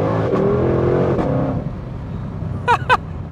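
A 2020 Shelby GT500's engine revs on a downshift, a loud, steady drone that fades, followed by two sharp, quick blips near the end.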